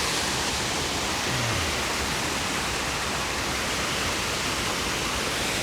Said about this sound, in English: battling with the sound of the waterfall here.